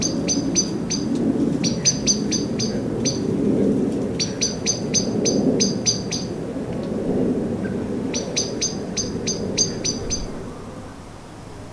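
A young starling gives repeated alarm calls in short bursts of sharp, high chattering notes, each burst a quick series of clicks, with pauses between them over a low, steady background rumble.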